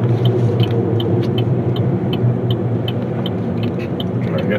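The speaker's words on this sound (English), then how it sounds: "Oh, here's another truck." A truck rumbles past on a road near construction work, a steady low engine drone holding at a constant level throughout with no distinct peak.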